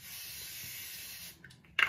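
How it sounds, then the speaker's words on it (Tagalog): A steady hiss of La Roche-Posay thermal spring water misted onto a face runs for over a second, close and continuous, then stops, with a short sharp spritz near the end. "Spray ko lang siya sa mukha ko."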